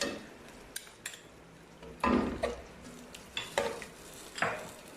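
Stirring and frying hara masala rice in a cooking pot: a series of scraping, clinking spoon strokes against the pot's sides over a soft sizzle, with irregular stirring rhythm, close up.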